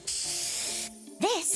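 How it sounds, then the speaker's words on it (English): A burst of hairspray hisses from a can in a video game, a bright sustained spray lasting most of a second, followed by a brief tonal game sound effect. "One spray to victory, Fluffy Tail Hairspray!"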